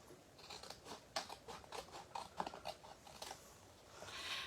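Scissors snipping through card near a score line, a run of short crisp cuts in an uneven rhythm, close and fairly quiet, with no talk.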